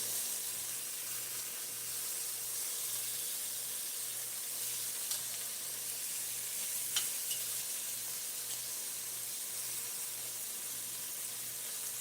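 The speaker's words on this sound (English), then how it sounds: "Just kind of stir the steak a little bit." Steak pieces stirred and browned in a hot pan for Spanish beef stew; a faint, steady sizzle with occasional light stirring clicks and a low background hum, no one speaking.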